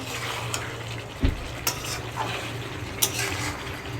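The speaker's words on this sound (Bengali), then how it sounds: "এখানে খুঁতিটা চালিয়েই যেতে হবে কারণ তলায় লেগে যাচ্ছে হালকা হালকা" A spatula scrapes and stirs meat curry with potatoes in a pan as it fries, with soft steady sizzling and a few sharp metallic clinks of the spatula against the pan.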